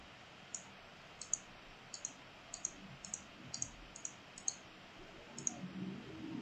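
Sharp mouse clicks tap out in quick pairs and singles at close range, about a dozen in all, over a faint room hush while placing a river in Wonderdraft mapping software.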